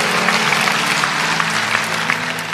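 Applause from a church congregation at a Christian sermon, a steady dense patter of many hands clapping at close range throughout, with no talk over it.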